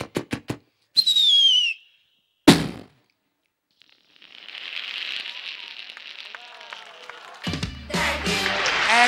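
Fireworks at the Sganassau 2014 festival: sharp cracks and thumps, a whistling rocket rising, then a long crackling fizz and a dense rapid burst of bangs near the end, with a few voices faint in the background.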